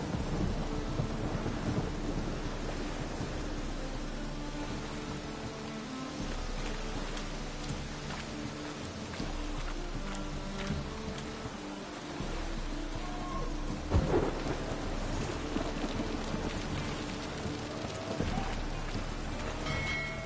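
Steady rain pours throughout in The Witcher 3 video game, with deep rolling thunder rumbling in the background and a louder crack near the middle.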